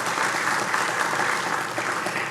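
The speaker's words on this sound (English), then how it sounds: "I'd like to thank, round of applause." An audience at an entrepreneurship challenge final round gives a full round of applause, a dense continuous wash of clapping from many people with no voices over it.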